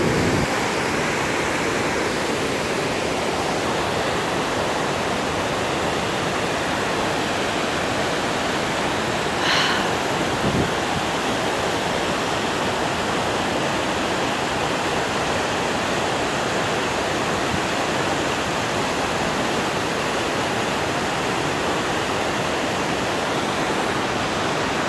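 Whitewater Falls in November, a steady broadband rush of falling water that holds evenly for the whole stretch, loud and continuous with no talk over it.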